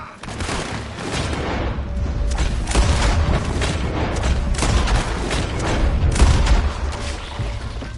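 Gunfire volley in a video game: dense, loud bursts of shots rattle almost continuously for several seconds, with heavy low booms mixed in and no clear pauses.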